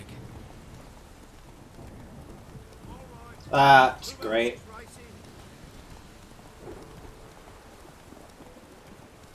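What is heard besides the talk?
thunderstorm with rain in video game The Witcher 3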